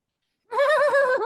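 A human voice mimics a horse's whinny, a short wavering neigh lasting under a second that starts abruptly after silence.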